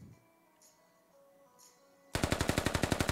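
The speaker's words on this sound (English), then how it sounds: "Grenades going off. Just another Gunfire." Video game gunfire on the Skorpo mod map: after near silence with faint tones, a sudden loud burst of rapid automatic shots fires in a steady, close rhythm.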